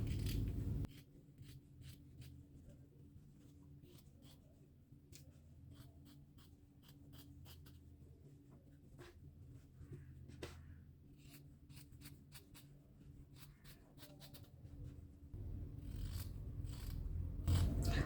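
Scissors snip out fabric pieces for a small panda kimono, a quiet series of crisp, irregular cuts and soft rustles close up, with a low background hum and no voices.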